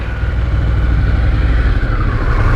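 A KLR 650 dual-sport motorcycle engine runs loud and close, revving with a steady throaty drone that holds high and slightly rises in pitch, with no talking.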